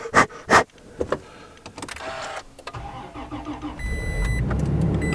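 Pickup truck cranking and firing up in freezing arctic cold, with loud bangs at first, then cranking and an engine catching into a steady idle that builds near and loud, with a thin electronic beep tone over it.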